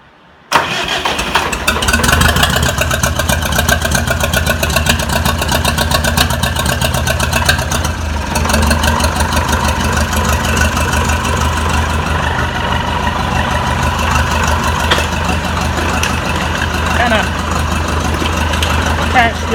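An Oliver 550 tractor engine cranks and fires, then settles into a loud, steady, chugging idle close by, a worn engine that smokes heavily, running with its muffler loosely attached.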